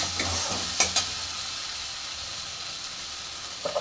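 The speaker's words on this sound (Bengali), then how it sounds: "এবার মশলাটাকে ভালো করে কষবো। যতক্ষণ না তেল ছাড়ে মশলায়।" Spice paste frying in oil in a pan for a Bengali small-fish curry, a steady hissing sizzle close by, with a couple of sharp stirring scrapes early on and a few more at the end.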